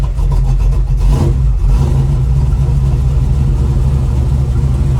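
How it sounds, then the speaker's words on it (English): A 1936 Chevy coupe's engine revs loudly and steadily close by, a deep throaty rumble with a surge partway through, no voices. "we'll see what the engine running sounds like, shall we?"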